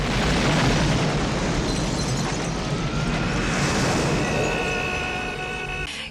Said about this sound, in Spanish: Bruce Willis está encerrado en la cabina de un avión y los malos le tiran unas granadas